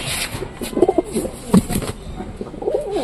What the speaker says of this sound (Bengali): কবুতরগুলো অনেক সুন্দর কবুতর